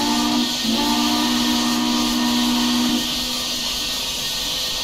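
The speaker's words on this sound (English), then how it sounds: "The whistle does function." Steam whistle of an ICRR 2-8-2 Mikado locomotive in Train Simulator Classic, a loud sustained chord-like blast over breathy steam hiss, holding nearly five seconds.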